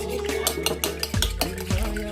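A utensil stirs and knocks against a bowl of egg mixture for coconut-milk-coated peanut snacks, making rapid clinks and scrapes with a couple of deeper thuds in quick succession.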